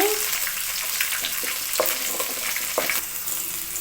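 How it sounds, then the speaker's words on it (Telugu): Green chillies and garlic sizzle in hot oil in a kadai for a vankaya tomato chutney, a steady dense crackle with occasional scraping stirs of a spoon, close and without talk. "పచ్చిమిర్చి దోరగా వేగిన తర్వాత తెల్లగడ్డలు ఇందులోకి యాడ్ చేసుకోవాలి."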